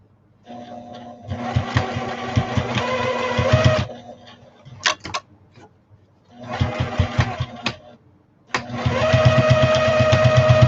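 A sewing machine stitching a fancy fabric shopping bag runs in loud, rapid mechanical bursts, stopping and restarting with brief clicks between runs.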